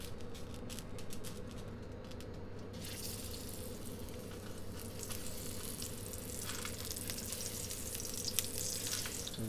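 Ripe yellow plantain searing in a pan in a small London kitchen with no extraction, giving a steady, soft, close sizzle that swells slightly toward the end, with no talk.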